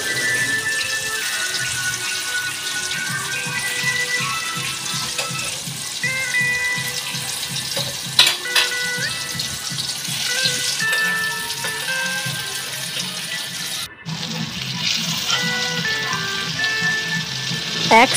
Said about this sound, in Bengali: এরপর ধোকাগুলো আমি লাল লাল করে ভেজে নেব